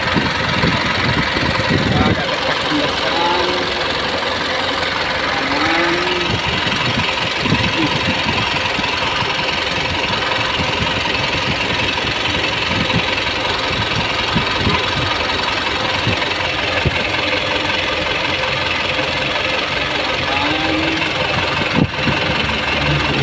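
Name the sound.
Mitsubishi Canter FE 84 truck diesel engine idling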